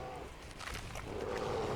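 A tiger in the video game Far Cry Primal lets out a low, rumbling roar that swells toward the end, set against a steady game ambience.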